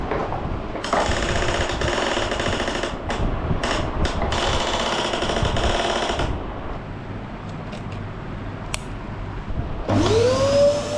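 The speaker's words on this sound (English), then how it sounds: "We're gonna vacuum pack it, put it away." Vacuum cleaner sucking the air out of a storage bag of winter bedding, a steady loud broadband whine running for about six seconds, then dropping to a quieter hum as the air is drawn out, with a brief rising tone near the end.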